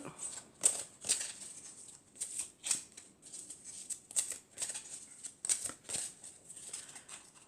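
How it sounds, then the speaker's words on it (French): Tarot cards being drawn and handled from a deck, giving soft papery slides and flicks in a short irregular series, fairly quiet and close, with no talking over them. "Juste pour tirer deux cartes de ce tarot que je trouve très beau."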